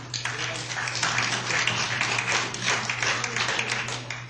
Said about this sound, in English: Please respect the committee. Do not applaud.